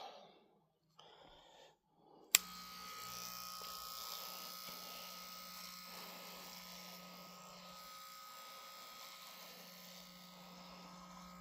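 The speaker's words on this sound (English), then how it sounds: "I am going to try and give it a little clippers" Electric hair clippers start abruptly after a brief quiet moment, then buzz steadily and close by as they cut hair on a head.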